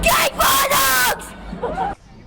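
A crowd of AFL football fans at a final training session bursts into loud cheering and whooping, two big surges of roaring voices followed by a quieter tail of shouts.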